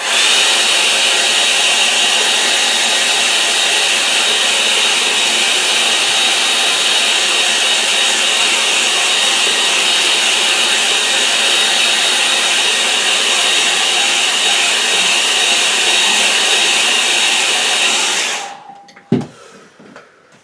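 A hair dryer blows steadily and loudly up close, drying wet acrylic paint on a sky painting, a constant broadband whoosh lasting about eighteen seconds before cutting off with a small knock.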